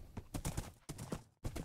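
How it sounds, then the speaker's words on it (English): Horse sounds in the video game Minecraft, a run of hoof clip-clops and agitated snorting bursts repeating across the moment, fairly quiet and close with no talk. "Horse is getting mad at us"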